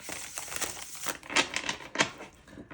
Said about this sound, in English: I'm just going to shuffle one more time.